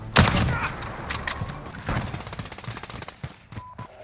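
Video game gunfire: a loud opening shot followed by rapid, irregular bursts of automatic fire that thin out and grow more sporadic toward the end. No speech is heard over it.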